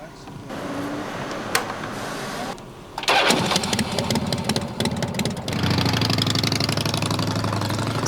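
A sidecar motorcycle engine cranks and fires at about three seconds, then settles into a steady, close idle with a louder, fuller note from about five and a half seconds; voices can be heard in the mix.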